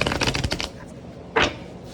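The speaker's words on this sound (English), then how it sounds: "I was about to shuffle the deck and a bunch of cards just flew out." A deck of tarot cards is shuffled up close in a quick run of papery riffles, then a single sharp flutter follows after a short pause, with no voices.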